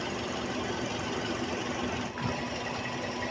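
A used car's engine idles with a steady, continuous mechanical hum and faint rattling, close up and unchanging.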